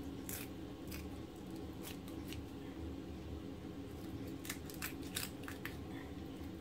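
A knife cuts open the body of a horse mackerel in a kitchen, giving soft, faint scraping and slicing strokes in repeated short bursts over a steady background hum.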